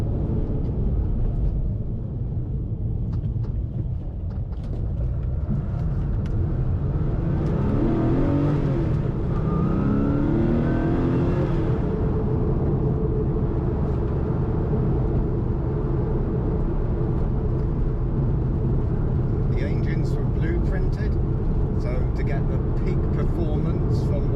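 A Porsche 964 RS engine with a lightweight flywheel hums steadily from inside the cabin while driving on the road, with a brief rise in revs; someone talks over it throughout.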